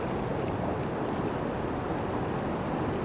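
Water flows and washes at Foz do Lizandro beach near Ericeira, Portugal, a steady broad rushing hiss mixed with wind buffeting, with no voices.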